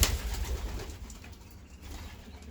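Pigeons in a loft, including young birds and a white parent, give soft low cooing over a faint background, close and steady, with no talk.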